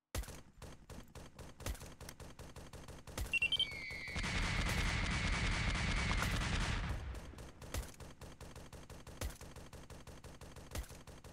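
Sustained rapid gunfire in the SCP Tower Defense video game, a dense burst of several seconds flanked by steady repeated single shots and clicks throughout.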